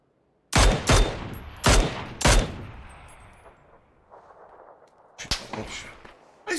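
Gunfire in a video game: several sharp, loud shots in quick pairs, a pause with trailing echo and faint background noise, then more shots near the end.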